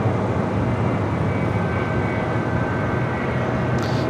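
A jet airliner at LAX airport fills the scene with a loud, steady broadband engine roar and rumble, continuous throughout with a faint whine on top, no voices.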